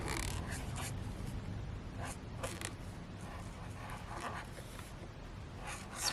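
Pen writing a single line in a Sterling Ink Common Planner, a steady close scratching and rubbing of nib on paper with small strokes and pauses, continuous over a faint room background.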